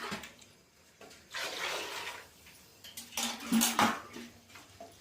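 Water poured into a pot of chicken biryani and a lid set on top, giving clattering pot and lid knocks and splashing bursts at close range, with no talking.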